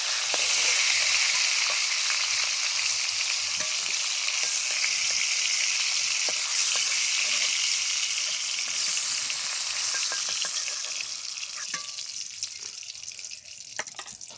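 Pointed gourds (potol) frying in mustard oil in a kadai, a steady bright sizzle with occasional stirring clicks, close and continuous throughout, easing slightly near the end.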